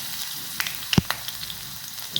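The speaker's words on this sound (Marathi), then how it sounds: "लसूण छान लालसर भाजून घ्यायचं आहे" Crushed garlic sizzles in hot oil in a pan with curry leaves, mustard seeds and cumin, a soft steady frying hiss with a few sharp pops and crackles, one louder spit near the middle.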